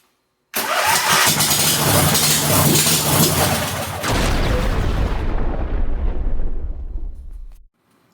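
A small go-kart engine, fitted to a converted bumper car, cranks and catches into a loud, close, sputtering run for several seconds, then drops to a rougher lower note before cutting out and falling silent.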